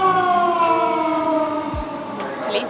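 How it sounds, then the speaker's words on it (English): A Tokyo police car siren wails with a sustained, tonal, wavering pitch, fairly loud and close, with some street noise beneath it. "police cars here sound interesting"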